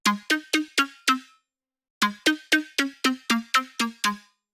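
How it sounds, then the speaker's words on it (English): Future house synth pluck preset named Shifts, meant for adding attack to big saw leads: a run of five crisp, bright plucks, a pause, then nine more in an even rapid rhythm, each note snapping short, clear and unaccompanied. "Plug Shifts is really useful if you want to add some more attack to your like big saw leads."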